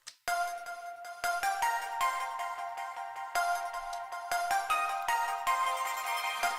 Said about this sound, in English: The first element is this pluck sound that's coming from Avenger.